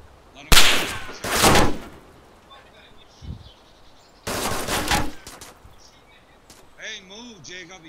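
Loud bursts of automatic gunfire in the DayZ survival game, shot through a wall at an enemy; three heavy volleys separated by quieter gaps, with faint background noise between them.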